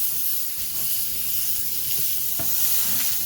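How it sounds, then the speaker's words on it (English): Sausage sizzles and hisses steadily in a cast iron skillet, a constant close frying crackle with occasional small stirring knocks, with no voices. "I'm going to break my sausage up here"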